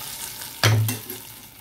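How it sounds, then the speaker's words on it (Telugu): Hot tempering (popu) is poured into pongal, setting off one sharp, loud sizzle that fades over about a second in a quiet kitchen. "ఇప్పుడైతే నేను దీన్ని పోపుని దీంట్లో పోసేసుకుంటాను."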